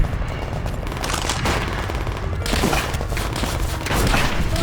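Dense, rapid bursts of automatic gunfire and booms from the game Call of Duty: World at War, loud and continuous without a break.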